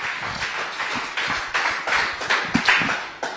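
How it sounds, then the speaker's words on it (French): Church congregation applauding during a sermon, rhythmic hand claps in steady unison beats, fairly close and loud, with no voices. "Applaudissons le Seigneur juste."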